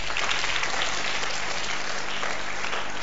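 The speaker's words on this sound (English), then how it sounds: "I like the way you are clapping." Congregation claps steadily during a sermon at a church service, a dense, continuous wash of applause with no voices over it.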